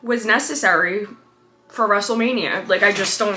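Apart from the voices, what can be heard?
No everyday noise stands out behind the speech.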